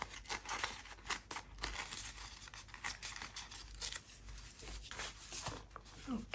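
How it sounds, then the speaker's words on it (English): Paper torn slowly along an edge of a book page during junk journal crafting, a continuous soft ripping and crinkling texture with small crackles, quiet and close, no voices. "Then I will try to carefully tear along this edge."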